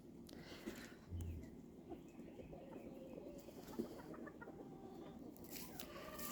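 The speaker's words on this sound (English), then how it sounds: "I have one down here that sounds like a horse when it crows" Chickens cluck quietly in and around a backyard coop, with faint, distant calls and a low rooster sound threaded through steady background noise.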